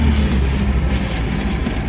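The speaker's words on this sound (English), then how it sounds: "big old garbage truck." A big green garbage truck rumbles past with a heavy, low engine drone, loud and close, steady throughout with no speech.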